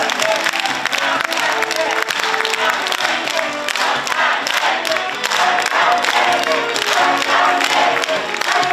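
A crowd at a Korean political party town-hall event gives loud, sustained applause as a speaker comes onstage, with cheering and music mixed into the din.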